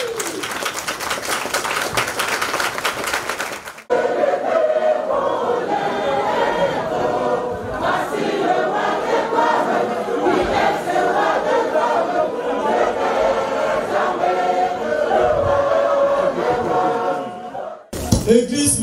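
A church congregation at the Temple Emmanuel of Diapé, a United Methodist church in Côte d'Ivoire, cheers and acclaims together in a loud, sustained mass of voices after a brief rhythmic opening, ending with a sharp burst.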